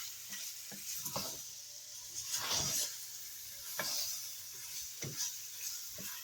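Ham, peppers, onions and celery frying in a pan for a simple home-style gumbo, a steady soft sizzle with several scraping stirs of a spoon breaking through at intervals, close and without any talk.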